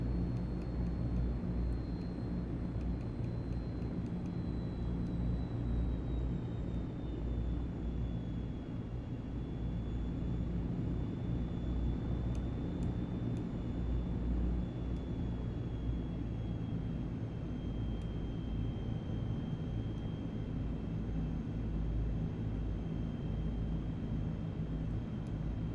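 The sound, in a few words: aircraft propeller prop wash in Microsoft Flight Simulator 2024 video game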